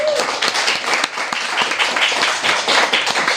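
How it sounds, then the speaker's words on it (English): Audience gives a round of applause during a live talk, with loud, close, dense clapping that stays steady throughout the short burst. "Give her a round of applause."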